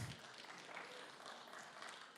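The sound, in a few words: audience clapping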